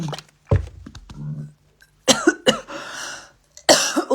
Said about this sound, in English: the coughing's bad with the rib.